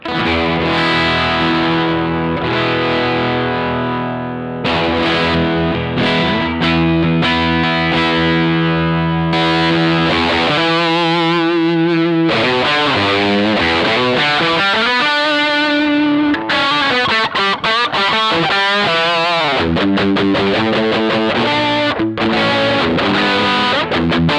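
Crunchy overdriven electric guitar through an AMT O2 pedal into an Orange amplifier rings out, moving from held chords into fast, chopped riffing, loud and close with thick fuzzy sustain.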